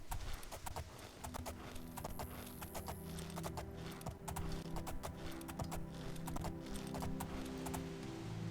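A horse trots along in the video game Oblivion, its hooves clip-clopping in a steady, even rhythm at close range over a continuous low ambient hum, with no voices.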